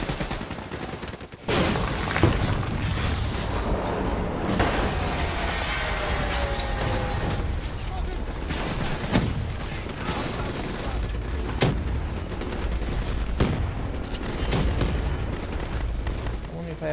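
Battlefield booms and scattered gunfire in the video game Call of Duty Black Ops 3, with a sharp explosive hit near the start followed by sustained rumbling combat noise and occasional louder blasts.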